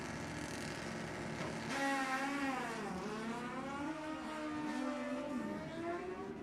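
Honda and Kawasaki drag racing motorcycles scream past the finish line at a raceway, heard from a distance as a rising and falling wail of engine pitch as they pass.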